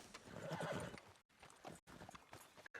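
A horse in Red Dead Redemption 2 online whinnies loudly at the start while its hooves clip-clop in a steady rhythm, the trotting continuing through brief gaps in the sound.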